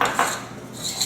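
A spoon scrapes and clinks against a bowl while mixing yogurt with biryani masala, giving a few close, sharp metallic taps and scrapes in quick succession with no talking.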